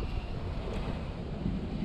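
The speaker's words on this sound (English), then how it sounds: "Wind's starting to pick up" Steady outdoor wind rushes and buffets the microphone in a broad, even roar, heard on its own with no talk while a cheese and bacon loaf is being cooked.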